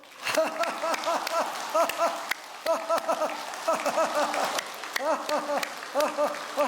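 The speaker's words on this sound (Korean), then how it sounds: "지금부터 여러분이 크게 10초 동안 박수 치면서 웃기를 시작합니다" A church congregation clapping hard and laughing loudly on cue for ten seconds, rhythmic bursts of claps mixed with rising waves of laughter from many people.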